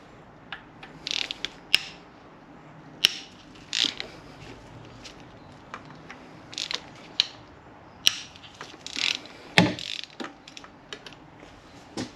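Ratchet wrench with a T30 Torx bit loosening bolts on a VW/Audi 2.0T FSI engine during cam follower replacement: repeated bursts of clicking and creaking ratchet strokes, close and fairly sharp, with quiet gaps between.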